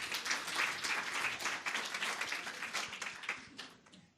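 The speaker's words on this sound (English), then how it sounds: "clap very, very fast." An audience at an interview-skills talk claps very rapidly, a fast, crisp flurry of many hands at moderate distance, fairly quiet overall and tapering off at the close.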